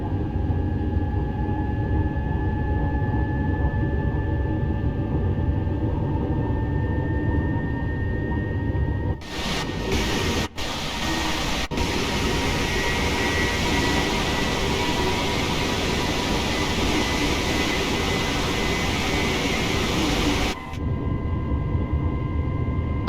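A TGV Duplex high-speed train runs in Train Sim World 6 between Avignon TGV and Marseille Saint-Charles, a steady loud rumble with a faint whine overhead. A broad rushing roar swells in around the middle and fills most of the rest.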